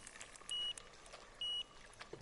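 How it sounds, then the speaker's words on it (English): Electronic bite alarm on a fishing rod at a lake: two short, high, steady beeps about a second apart, clear above faint outdoor background noise. "Hear the beeping."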